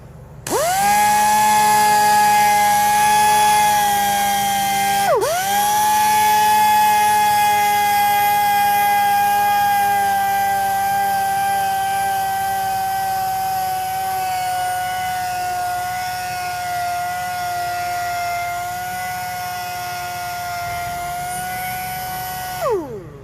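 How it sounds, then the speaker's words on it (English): A sander with a 320 grit disc works the machined face of a Mercedes-Benz GT 53 AMG wheel after curb rash repair, giving a loud, steady high-pitched whine that dips briefly once, then runs on continuously with no talk. "Now I'm going to use the sander with a 320 grit disc to start."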